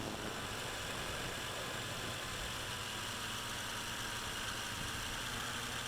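MJX X101 quadcopter drone flying and descending outdoors: a constant, loud, broadband whirring of rotors fills the whole stretch, steady and close with little change in level.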